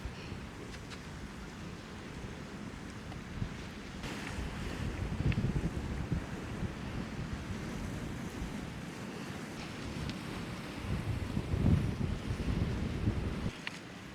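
Ocean surf washing along a Jamaican seaside shore, a steady broad wash of water with gusty wind rumbling across the microphone, swelling in a couple of louder surges, no voices.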